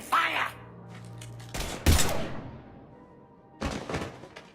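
Gunfire in the video game Mass Effect 3, a few sharp loud bursts in separate clusters, with short dialogue and a low hum between them.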